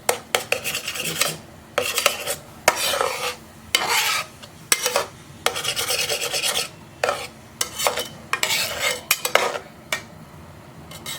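A cracked egg being stirred into a hot pan, with repeated scraping and rasping strokes of a utensil against the metal in bursts separated by short pauses, close and fairly loud with no talking.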